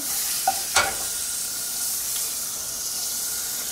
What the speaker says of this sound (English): once we get this butter melted down